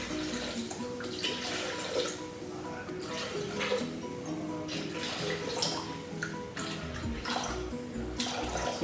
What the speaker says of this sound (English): we're going to now place 700 grams of water